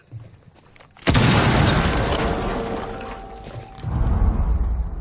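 A frag grenade explodes in Rainbow Six Siege with one sudden, loud, close boom that decays over a couple of seconds into rumbling debris, followed by renewed low noise.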